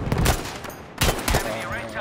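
A 1907 SF automatic rifle fires in the Battlefield V video game, with close, loud bursts of rapid shots broken by short pauses and dense battlefield noise around them.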